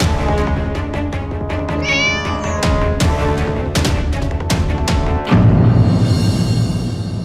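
A cat meows repeatedly in sharp, close cries over a dense, loud backdrop. A louder noisy swell takes over near the end.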